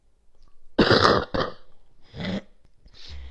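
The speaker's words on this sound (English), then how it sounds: "just had to cough" A few sharp throaty coughs close by, a strong burst followed by a shorter one, then two quieter bursts after pauses.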